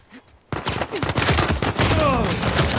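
Uncharted 4 multiplayer gunfire erupts after a brief quiet moment into a loud, continuous volley of rapid shots with overlapping bursts, close and dense throughout.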